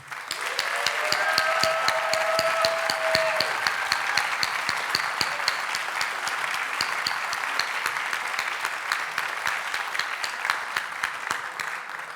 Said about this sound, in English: we should give a big round of applause to the artists and to everyone involved